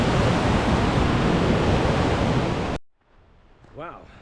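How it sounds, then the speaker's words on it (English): A heavily flowing waterfall at Southford Falls, swollen after lots of rain, roars as a steady, loud, dense rush that cuts off abruptly, leaving a quiet moment and a brief voice. "There's a lot of people here today checking out the waterfall."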